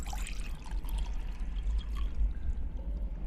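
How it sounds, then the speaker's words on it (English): Water being poured into a pot in the point-and-click adventure Hob's Barrow: a steady close pouring and trickling sound that runs for a few seconds with no talk over it. "I've collected some water in the pot."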